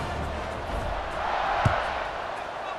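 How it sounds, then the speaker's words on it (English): A stadium crowd in EA Sports College Football 26 roars and cheers steadily, the swell building slightly toward the middle with a brief thud, continuous and fairly loud throughout. "this crowd now ready to get behind them"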